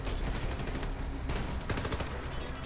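Gunfire in a co-op shooter set in Pripyat, heard as a distant, muffled clatter of overlapping shots and bursts that rises and falls beneath a low, busy background with no speech.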